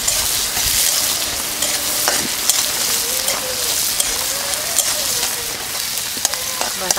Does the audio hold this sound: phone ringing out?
no